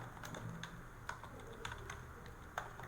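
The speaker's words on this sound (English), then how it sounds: "I want to type" Someone types on a computer keyboard while entering text into an Excel workbook, with soft, scattered key clicks at an irregular pace. The sound is faint and close over low background hum, with no speech.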